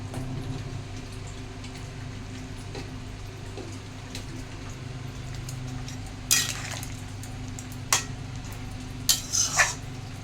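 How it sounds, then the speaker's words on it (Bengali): Rohu fish pieces pushed into a thin simmering curry with tomato, potato and plantain, heard as a low bubbling hum with a few sharp clinks and scrapes of a spoon against the pot, close and fairly quiet. "মাছগুলো দিয়ে দিলাম, ডুবিয়ে দিচ্ছি।"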